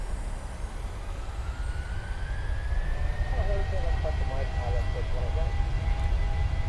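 PMDG airliner engines in Microsoft Flight Simulator spool up to takeoff power, a loud steady rumble with a rising whine; a voice talks partway through.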